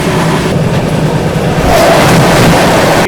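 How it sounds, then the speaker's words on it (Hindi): Vikramshila Superfast Express, bound from Anand Vihar toward Bhagalpur, rolls past on railway tracks, a loud, close, steady roar of wheels and clattering carriages that swells in the second half. "आनंद विहार से चलकर भागलपुर की ओर जाने वाली विक्रमशिला सुपरफास्ट एक्सप्रेस आ रही है दोस्तों"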